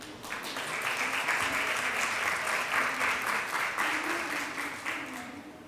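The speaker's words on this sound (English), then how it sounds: "Please clap for him again." An audience at a conference session on gender equality and sustainable energy applauds for a speaker, with steady, full clapping lasting several seconds.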